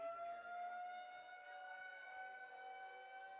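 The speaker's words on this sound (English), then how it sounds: "they let the siren play out" A civil defense siren wails steadily at a college baseball game, a sustained tonal drone heard from a distance and filling the whole stretch without any talk.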